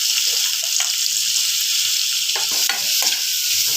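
Sliced large onions frying in hot oil in a kadai give a steady broadband sizzle, broken by a few scraping stir strokes from a spatula, with no one speaking.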